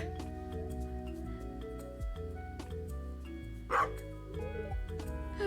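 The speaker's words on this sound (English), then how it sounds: "There's actually a dog!" A dog barks in the farming game Stardew Valley over looping game music, with one sharp bark standing out midway and fainter yips around it.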